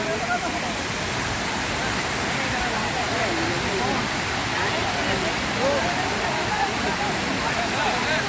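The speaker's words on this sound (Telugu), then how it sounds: "Anantagiri hills water falls" Steady broadband roar of the Ananthagiri Hills waterfall in Vikarabad, a loud, unbroken wash of falling water filling the scene, with a voice talking over it.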